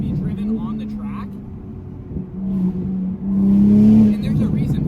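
Toyota A90 Supra, untuned and making about 400 horsepower, its engine droning and swelling in revs near the mic, rising to a louder surge toward the end, with someone talking over it throughout.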